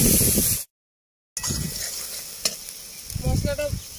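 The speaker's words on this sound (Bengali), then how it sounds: "মশলাটা ভাজা হয়ে গেছে, তেল ছেড়ে গেছে" Spices with chilli powder and salt frying in oil in a pan, a close, steady sizzle with stirring scrapes, briefly cut to silence before the frying noise returns.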